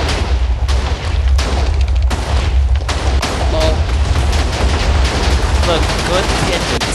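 Rapid-fire TNT cannon explosions in a Minecraft-style video game, a dense, loud barrage of booming blasts that continues throughout with little pause.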